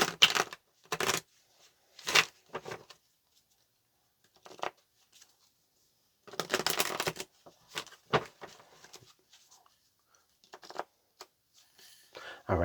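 Tarot cards shuffled in the hands in short, crisp riffling bursts separated by pauses, close and fairly quiet, with no talking over them.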